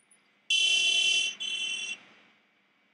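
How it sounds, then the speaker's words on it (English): A car horn honks inside the Back to the Future adventure game, a loud, bright tone blaring in two close bursts, the first about a second long and the second slightly shorter, then fading into quiet room noise. "We have a horn."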